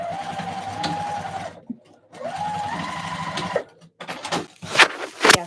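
A sewing machine stitches fabric pieces together in a small studio, running in two steady whirring bursts with a brief pause between, followed by a few clunky handling knocks.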